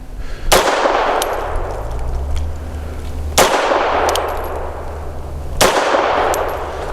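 Three sharp, loud shots from a Grand Power LP380 pistol firing .380 ammunition, evenly spaced a few seconds apart, each with a ringing decay.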